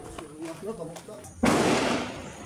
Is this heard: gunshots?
yes